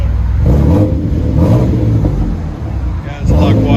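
A 2001 Chevy S10 with a 4.3L V6 and Magnaflow Magnapack dual exhaust revs in a few swelling bursts, loud and close, with a deep rumbling tone rising and falling over a steady idle.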